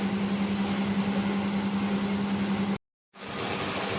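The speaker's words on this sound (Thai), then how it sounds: "น้ำเดือดแล้วค่ะ" Steady broadband hiss and low bubbling of water boiling in a pot before squid is blanched in it, constant and close, briefly cutting out before resuming.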